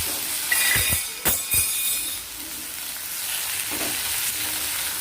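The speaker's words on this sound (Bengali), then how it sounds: "আমি এই যে পটল, রসুন, কাঁচা লঙ্কা একসাথে কেটে ধুয়ে রেখেছি ওগুলোকে দিয়ে দেবো এর মধ্যে" Pointed gourd, garlic and green chilli go into hot oil with frying nigella seeds and dried chilli, giving a few sharp clacks followed by a steady sizzling hiss, heard close with no speech.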